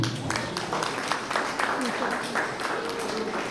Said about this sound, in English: for all our IndoKids students, one clapping is required.